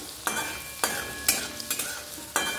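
Grated garlic fries in a pan with a soft, steady sizzle, broken by several sharp scraping stirs of a spatula against the pan, close and with no talking.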